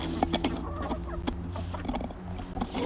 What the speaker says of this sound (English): So I'm giving them some mealworms because chickens love mealworms.